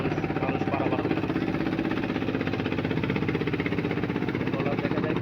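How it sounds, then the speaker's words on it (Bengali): A small passenger trawler's engine on a river chugs with a steady, rapid, pulsing drone that stays constant and fairly loud throughout. "এই যে এই বরাবর একটা ট্রলার আসতেছে"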